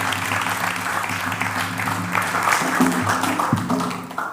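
An audience at a church gathering applauds a visiting regional choir from Yako with steady, fairly close clapping that runs for several seconds, mixed with a faint hum of voices.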